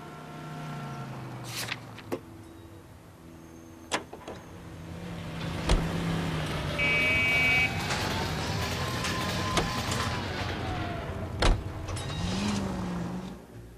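A car in the video game L.A. Noire drives along with a steady engine drone that swells as it accelerates, punctuated by sharp clunks and knocks, with no talking.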